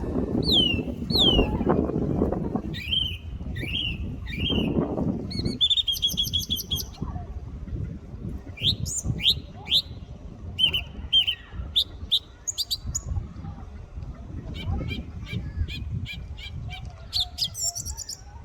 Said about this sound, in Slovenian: Isti ptič in približno 8 različnih pesemc oziroma zvokov v razponu 20 sekund.